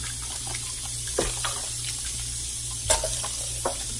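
Raw chicken rinsed under a running kitchen tap: a steady stream of water splashing close by, broken by a few louder splashes and handling knocks, with no speech.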